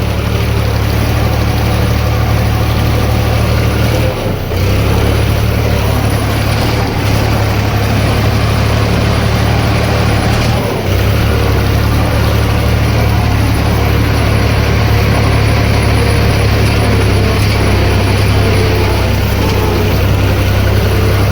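A heavy tractor pulling a combined rotavator and seed drill drones loudly and steadily nearby, a constant low rumble with two brief dips.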